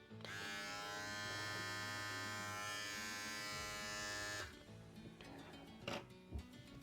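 A PREO PGS 01 electric hair clipper runs with a steady, close, high-pitched buzz, then is switched off, leaving faint handling clicks.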